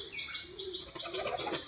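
A pet Teddy pigeon gives short chirping calls close by, a few quick tweets in a row with a faint rustle of wings.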